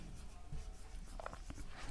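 Chalk or marker scratching across a board in a physics classroom, a faint continuous scrawl with a few brief taps, quiet and somewhat distant.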